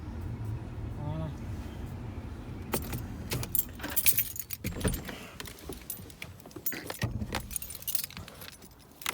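Audi A4 (2015) keys jangle briefly up close amid clicks and handling noises, with faint talk and a car interior hum in the background.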